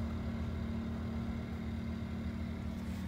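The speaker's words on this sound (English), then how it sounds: "Generator running on economy mode. Kind of idling right now." A 2000 W portable generator idles in economy mode while powering an RV air conditioner, giving a steady, faint low engine hum with no change in pace.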